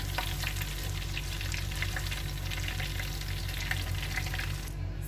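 Battered shrimp deep-fry in soybean oil with a dense, even crackling bubble that runs for several seconds, close and moderately quiet, ending in a brief drop at the very end, with no one speaking.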